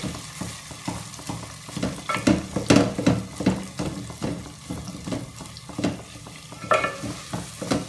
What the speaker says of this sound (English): Now we will smash them a little bit.